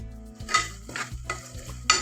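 Onions with curry leaves and green chillies frying in oil in a pan on a home stove, giving a steady sizzle with a few sharper scraping stirs, close and alone without voices.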